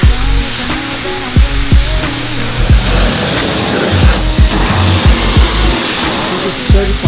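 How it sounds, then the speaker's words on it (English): A pressure washer rinses a 2019 Toyota RAV4 XSE Hybrid during a long car wash. The close, loud spray is a steady, continuous hiss, with low thumps scattered through it. "Go ahead and do the high pressure rinse."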